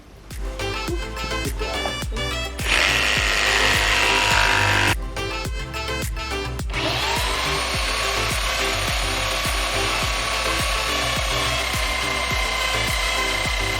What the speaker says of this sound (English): Yay for cordless tools